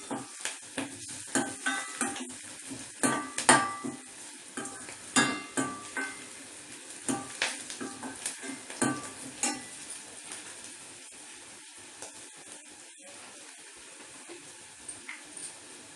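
Potatoes for aloo 65 fry in a pan, with a steady crackling sizzle under repeated scraping stirs and clinks of a metal spoon, busy and close for the first half, then settling into quieter frying.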